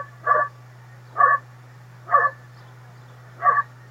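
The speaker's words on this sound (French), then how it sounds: "Voici mon chien, il s'appelle Fripon, il a 12 ans, et il est un peu vieux." Fripon, a twelve-year-old dog, gives four short, evenly spaced barks, close and clear over a low steady hum.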